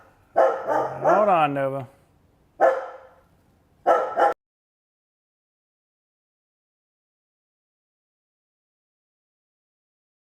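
Shop dog barking indoors at an aluminum fabrication workshop, several sharp close barks and a drawn-out yelping whine in three short bursts, with someone speaking briefly, then silence.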